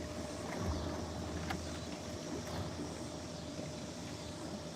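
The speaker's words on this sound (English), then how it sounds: "That boat made a hell of a mess." Boat passing on open water, a steady broadband wash of engine and wake noise with wind buffeting the microphone, continuous and fairly loud throughout.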